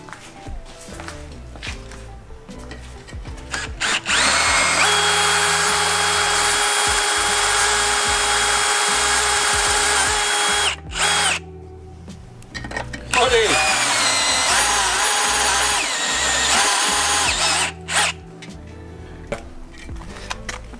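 Battery-powered drill boring into a metal fitting in a shop, near and loud with a steady high whine that runs for several seconds, stops briefly, then resumes, with voices talking around it.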